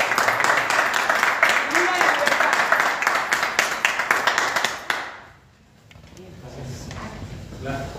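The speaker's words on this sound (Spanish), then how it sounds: "Le damos un fuerte aplauso a Manuel" Applause from a seated audience at a talk on liberal political thought, a dense burst of clapping for about five seconds that stops abruptly, leaving a quiet room with faint rustling.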